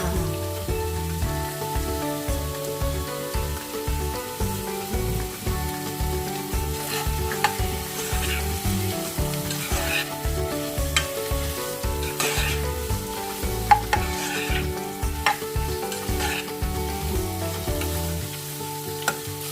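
Chicken sausage sizzles and crackles in a pan for pasta cream sauce, a steady dense frying hiss with irregular pops and occasional stirring scrapes, close and continuous with no talking.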